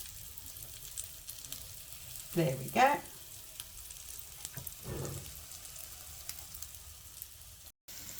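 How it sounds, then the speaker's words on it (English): Ricotta pancake batter sizzles and crackles softly in a hot frying pan, with a couple of louder scraping bursts and a brief spoken remark. "You can hear it sizzling away"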